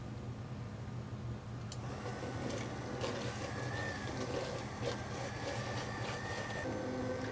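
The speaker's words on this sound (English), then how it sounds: "we're going to use a bar mixer and blend it so it gets a nice smooth consistency." An immersion blender whirs steadily through boiling strawberry jam, a low continuous mechanical hum with occasional light rattles, moderately close and without talk.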